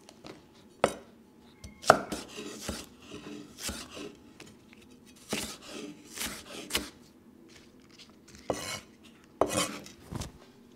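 A knife finely shreds spring onions on a cutting board, giving sharp, irregular chopping strikes close by in quick bursts, with quiet pauses between.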